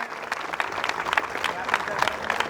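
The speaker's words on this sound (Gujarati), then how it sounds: "જોરદાર તાળીઓથી આપણે એમને વધાવીએ" An audience at a Patel community association gathering breaks into lively, ragged clapping that stays close and fairly loud, with a voice speaking over the applause.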